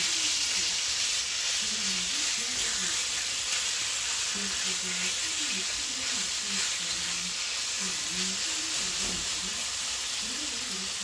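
Meat frying in a Skeppshult cast iron pan over medium heat gives a steady, close sizzle throughout, with faint talk at times beneath the hiss.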